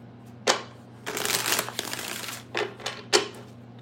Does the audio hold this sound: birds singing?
no